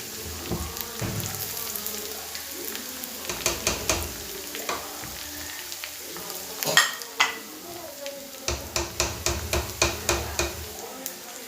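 Small onions sizzle in hot oil in a pan for a drumstick-leaf and jackfruit-seed curry. A steady frying hiss is broken by repeated sharp scrapes and clinks of stirring, some in quick bursts, all close up.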